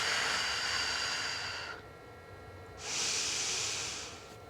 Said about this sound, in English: Big breath in here.